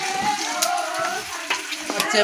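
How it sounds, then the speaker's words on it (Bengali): Steady sizzling of eggs frying in a hot pan at a village wedding kitchen, with a continuous hiss and occasional crackles and light clinks. "এখানে এখন ডিম ভাজা হচ্ছে"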